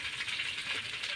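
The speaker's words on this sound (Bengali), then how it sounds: "আমি ওই তেলেই দিয়ে দেবো একটা বড় সাইজের কুচি করে কেটে রাখা পেঁয়াজ।" Chopped onion sizzles in hot oil for a potato chop dish, a brief, quiet, steady frying hiss.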